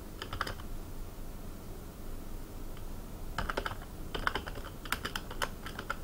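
Fingers type on a computer keyboard in short irregular bursts of crisp, close key clicks separated by pauses, with faint room hum beneath.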